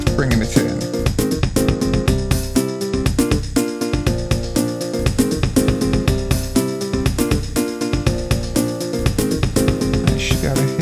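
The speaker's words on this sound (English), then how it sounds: "We can also put the free sessions through some reverb too to give them a little bit of extra depth." A Casio SA-76 keyboard runs a free session preset through added reverb, sounding loud and continuous with regular drum beats and layered harmonic backing and no speech.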